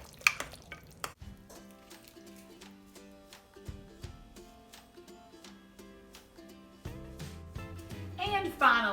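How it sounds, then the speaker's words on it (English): Stirring a melted appetizer mixture in a pot, soft scraping and bubbling sounds at close range, with a faint sizzle growing toward the end. "now what I'm gonna go in here and I'm just gonna stir all this around"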